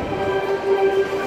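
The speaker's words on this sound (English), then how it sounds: "the subway train." A subway train passes at a baseball game between the Yankees and Twins, giving a steady loud rumble with a sustained tonal whine over crowd-like background noise.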